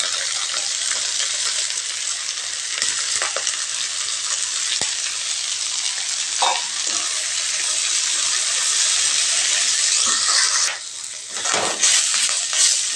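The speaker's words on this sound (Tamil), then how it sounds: "இந்த எண்ணெயிலே கொஞ்சம் நேரம் முருங்கைக்கீரை வதக்கி விடுங்க." Drumstick leaves sautéing in oil with onions for a drumstick-leaf poriyal, a loud, steady, close sizzle and crackle that carries on throughout, with a few faint scrapes, briefly dipping near the end, and no talking.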